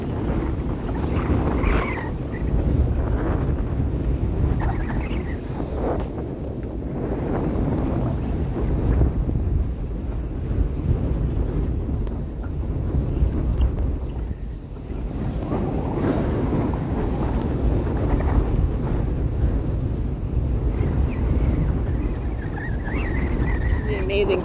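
Wind roars and buffets a microphone steadily while riders in an open jeep travel the Road to Hana on Maui, a loud continuous rush with voices talking beneath it.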